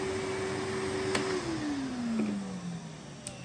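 A 2006 Henry twin-motor vacuum cleaner is switched on, running with a steady whir and rushing airflow; its motor tone drops in pitch partway through as it settles.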